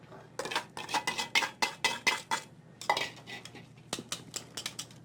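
Cream and gelatin stirred together in a bowl, a rapid series of clinking utensil strokes against the bowl, close and crisp, pausing briefly midway before resuming.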